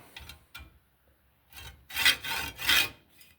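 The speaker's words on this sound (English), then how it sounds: "Hacksaw a groove in her in line with the Phillips dealie" Hacksaw cutting a groove into a Phillips screw head on a Moto Guzzi Eldorado's Amal carburetor, a few short rasping strokes at first, then three louder, closer back-and-forth strokes, with quiet gaps between.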